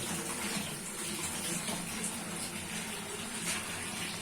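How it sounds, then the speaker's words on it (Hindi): Tap water runs steadily into a kitchen sink while it is being washed, making a continuous close, full rushing splash throughout with no talk over it. "सिंक धो रहा हूँ"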